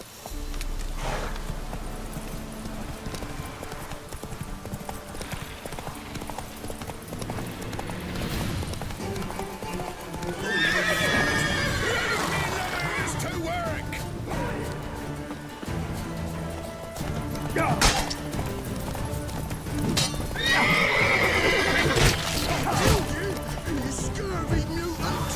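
A horse in The Witcher 3 clops along with running hooves beneath game ambience, while two sharp whinny-like cries rise out of the mix at separate moments.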